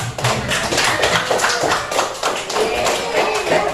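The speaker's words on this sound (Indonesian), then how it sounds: "Tepuk tangan untuk kelompok." Applause for a student group in a classroom, a dense spread of many hands clapping steadily and evenly for a few seconds, close and fairly loud.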